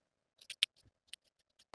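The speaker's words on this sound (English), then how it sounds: "And then use scissors to clip into the curves of the armhole" Scissors snip into the curved armhole seam of fabric on a 1960s vintage dress, about half a dozen short, crisp cuts in quick succession, close up and quiet, with no talking.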